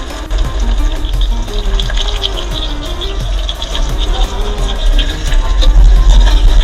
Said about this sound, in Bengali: এবার দিয়ে দিচ্ছি কুচি করা পেঁয়াজ